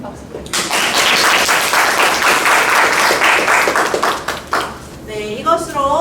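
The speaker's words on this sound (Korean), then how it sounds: "선생님에게도 더 큰 박수 부탁드립니다." An audience at the final of a Korean middle-school reading and debate contest applauds a teacher with loud, full clapping from many hands that swells quickly, holds steady, then tails off as a voice starts speaking.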